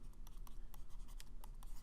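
Marker or chalk writing on a board, a fast scratchy run of short strokes, close and fairly faint, with no talking.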